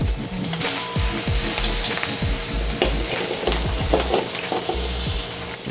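Shallots and garlic sauté in butter with salt and pepper in a hot pan, giving a loud, continuous close sizzle broken by repeated scraping stirs of a utensil.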